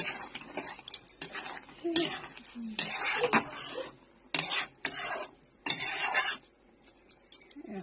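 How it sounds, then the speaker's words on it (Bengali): Tomato chutney with chilli powder being stirred in a pot, heard as close, irregular bursts of metal spoon scraping and clinking against the pan, separated by short quiet gaps. "এবার এটা সবটা ভালো করে মিশিয়ে দিই।"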